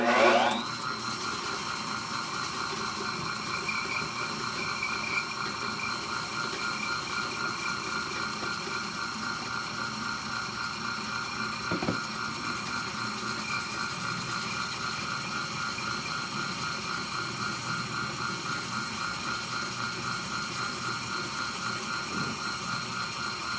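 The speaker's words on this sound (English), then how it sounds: "Now I wrapped emery cloth around the drill bit. That's why I'm cleaning the guides out." Power drill spinning emery cloth wrapped on its bit to clean the valve guides of a Caterpillar Sixty tractor engine, a steady whirring and grinding mechanical drone that holds at an even level, with a few faint knocks.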